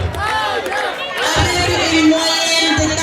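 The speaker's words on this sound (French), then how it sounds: "les applaudissements pour Mademoiselle Mbayang Cham" A banquet audience at an academic excellence dinner in Diourbel cheers and applauds a student being honoured. The crowd noise is loud and continuous, with voices and whoops mixed into the steady din.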